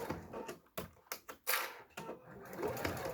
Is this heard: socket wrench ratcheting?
no